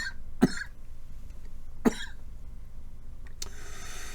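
A person gives two sharp, close coughs about one and a half seconds apart, followed by a short breathy rasp. There is no talking.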